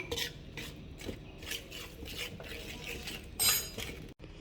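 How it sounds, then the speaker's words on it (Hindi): Ground fried edible gum stirred into a sweet Sindhi khorak mixture makes soft repeated scraping strokes with light utensil clinks against the pan, close and quiet. "अब ये गोंद आपको इसमें मिक्स कर लेना है।"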